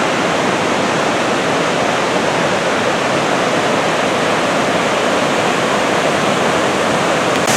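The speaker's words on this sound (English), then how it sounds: "This is just the Ohanapecosh River flowing" The Ohanapecosh River rushes at Silver Falls in Mt Rainier National Park, a loud, steady broadband roar of falling and churning water heard close up, with no other sounds.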